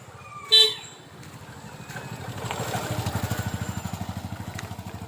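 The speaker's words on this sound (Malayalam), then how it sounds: "ബൈക്ക് വരുന്നു, മാറ്." A motorcycle draws nearer along a street, its low engine putter building steadily after a single short horn toot near the start.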